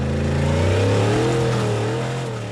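Formula Offroad car on the final hill climb at an Icelandic competition in Egilsstadir, engine revving hard in a sustained rising whine that swells and then eases off slightly, loud and fairly close.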